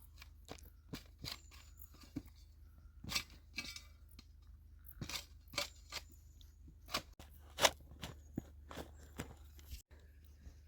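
Scissors cut through pond liner while shaping an island for a woodland pond, giving a string of quiet, crisp snips at an uneven pace with small crunching handling sounds, close by and faint.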